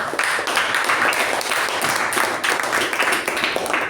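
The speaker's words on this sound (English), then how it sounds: "Let's give him a round of applause." Applause at a Toastmasters club meeting, a steady wash of clapping hands from a small group that fills the room evenly for several seconds without a break.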